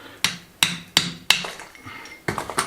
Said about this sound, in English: I've got a little fine chisel and a big hammer.